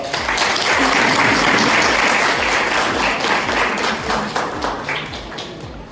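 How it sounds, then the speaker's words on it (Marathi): Loud, dense audience applause fills the hall at a career guidance talk on 11th admission, many hands clapping steadily throughout and easing slightly toward the end. "सर्वप्रथम सरांसाठी एकदा जोरदार टाळ्या वाजवा"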